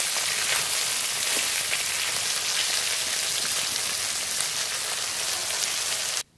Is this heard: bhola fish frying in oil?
yes